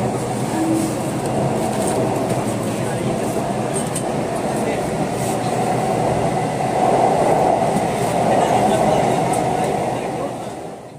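Kolkata underwater metro train running through the tunnel beneath the river toward Howrah, a steady loud rumble of wheels and carriage noise throughout, with faint voices murmuring inside the coach.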